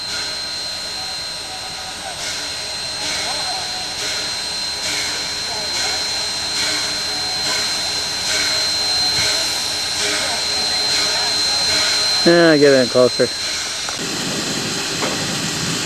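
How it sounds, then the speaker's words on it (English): STCR steam locomotive No. 9 hisses steadily as its fire is dumped at the Rhubarb Festival in Shedden, Ontario, a loud close roar of escaping steam with brief talk and a short whistle-like squeal near the end. "they're dumping the fire out of good old number 9"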